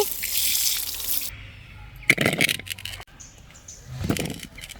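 Running tap water pours over bilimbi fruit being washed at a kitchen sink, loud and steady at first, then breaking into closer splashes and rinsing bursts as the fruit is handled.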